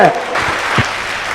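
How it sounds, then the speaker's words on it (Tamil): Audience applause, a loud burst of many hands clapping lasting just over a second, with a voice briefly audible over it. "இந்த பலத்த கைத்தட்டலோடு நீங்க சொல்வதை போல"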